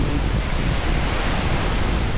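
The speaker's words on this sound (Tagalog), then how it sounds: "Lakas nga lang talaga yung alon mga kasama." Strong sea waves around the Hundred Islands in Pangasinan, heard from a boat on a day tour: a steady, loud, broadband roar of surf and wind that fills the whole stretch, with no voices.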